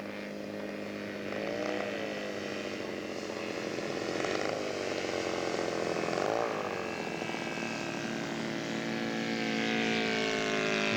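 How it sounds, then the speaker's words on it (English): Scale model de Havilland aircraft flying in to land at a scale aircraft show: a continuous propeller engine drone that rises and falls slightly in pitch, moderately loud and steady throughout, with no talking. "Bruce Harlow's coming home with his de Havilland."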